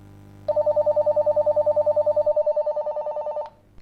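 A Motorola Talkabout T246 two-way radio sounds its call alert, a loud warbling trill pulsing rapidly for about three seconds before cutting off, alone and close.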